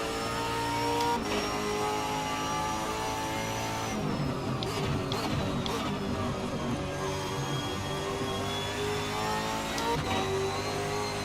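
A supercar racing at Sebring in Assetto Corsa, its engine howling steadily with rising and falling revs through gear changes, loud and close throughout.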